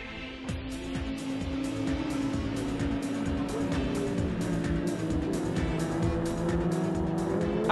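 Legends race cars at Oulton Park in the 2012 Scottish Legends series, engines droning loud and continuous as a pack circulates, with repeated sharp whooshes of cars passing close by throughout.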